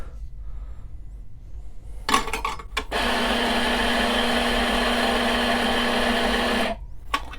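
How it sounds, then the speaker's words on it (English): A commercial coffee grinder runs steadily for about four seconds, grinding coffee into a portafilter, with a constant whirring motor hum. A few short clatters and bursts come before and after it. "just to kind of compare to what a commercial grinder can do, I'm going to use a portafilter this time"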